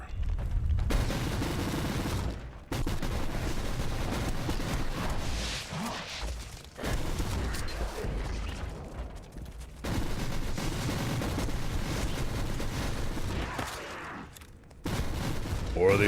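Rapid bursts of gunfire from a Warhammer 40K: Inquisitor - Martyr battle fill the scene, loud and dense, with a couple of short pauses between volleys and a mix of booms and mechanical clatter.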